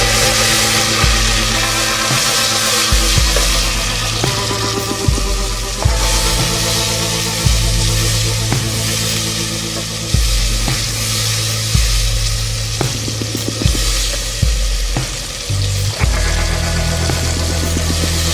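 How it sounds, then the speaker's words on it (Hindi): Tomato paste hits hot oil for Pakistani chole, a loud, steady sizzle that swells with repeated stirring and scraping in the pan, no talking. "अब टमाटर का पेस्ट डालेंगे"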